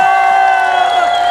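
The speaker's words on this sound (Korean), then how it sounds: "큰 박수 부탁드립니다." Rally crowd at an outdoor protest in Mokpo against the discharge of contaminated nuclear water, cheering and whooping loudly with steady, sustained tones and scattered clapping, a dense wall of voices throughout.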